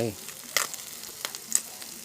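Field rat meat stir-fried with kaffir lime leaves in a pan for a spicy Thai dish, giving a steady soft sizzle broken by a few sharp spatula scrapes and clicks, close by with no talking.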